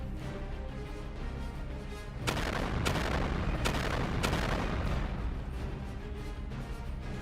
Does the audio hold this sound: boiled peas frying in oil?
no